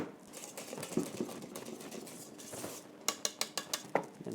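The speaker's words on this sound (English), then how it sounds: "I'm going to do is just going to loosen the pâte bombe a little bit with a little bit of creme fraiche mixture" Pâte bombe being loosened with crème fraîche mixture in a bowl, soft scraping and stirring strokes followed by a quick run of light clinks as a utensil taps against the bowl.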